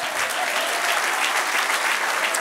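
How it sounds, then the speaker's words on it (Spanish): A church congregation breaks into sustained, dense applause during a Spanish-language sermon, a steady wash of many hands clapping at once with no break, filling the space loudly throughout. "Dale un aplauso al Señor."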